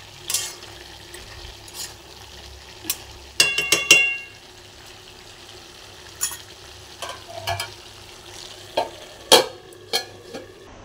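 Cauliflower and potato curry steam-cooking in a pan on a low flame, stirred now and then, with scattered close scraping and clattering strokes over a faint background sizzle.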